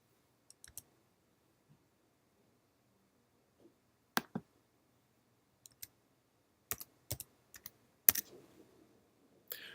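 A zip code is typed on a computer keyboard as sparse, sharp key clicks, single and in short bursts, close and clear against near silence.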